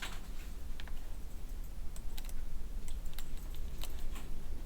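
A few crisp, sharp computer mouse clicks land one at a time, spaced irregularly over a steady background hiss with no talking.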